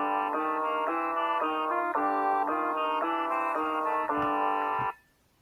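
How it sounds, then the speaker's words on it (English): A band instrument plays a G natural minor scale, a run of clear sustained notes stepping steadily in even rhythm for about five seconds, then stopping abruptly into near silence, with no talking. "The natural minor scale means that you play simply what's in the key signature"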